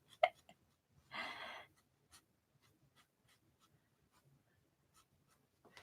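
Pencil sketching a portrait by hand on paper, one short scratchy stroke burst followed by sparse faint scrapes and taps in a quiet room.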